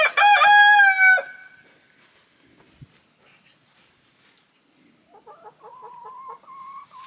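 A rooster in a flock of Easter Egger chickens crows loudly and close at the start, a full cock-a-doodle-doo, followed by quieter scattered clucks and short calls from the hens.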